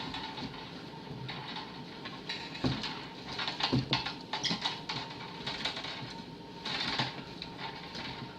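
Bookbinding thread is drawn through paper by hand, two threads pulled at once, making soft, close scratchy rustling and brief pulls that come and go without pause.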